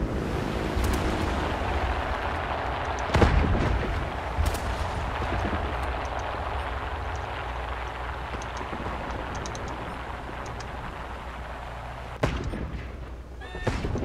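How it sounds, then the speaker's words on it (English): Naval gunfire strikes near the player's ship at sea in War Thunder, with a few heavy booms over a constant rumble of engine and ocean, the loudest blasts landing early and near the end. "Who's shooting at me?"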